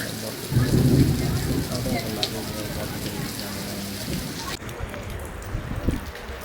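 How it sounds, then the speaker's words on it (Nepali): Steady rain hisses throughout, with a low rumble of thunder early on; the wash of rain thins toward the end. "पानी परिरहेको छ"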